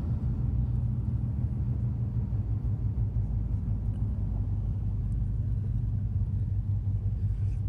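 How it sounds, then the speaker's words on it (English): Rush hour car traffic flows near US Bank Stadium in Minneapolis at night, a continuous low rumble of many passing vehicles, steady and moderately loud with no one speaking. "Except for the cars. There's a lot of cars."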